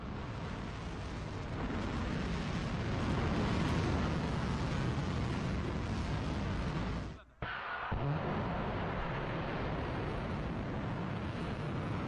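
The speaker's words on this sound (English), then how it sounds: "Iranian media released the video set to show the launch of missiles against Israel." A missile launch fired from Iran toward Israel produces a continuous, heavy broadband roar that swells and holds, cuts out sharply for a moment, then resumes just as loud.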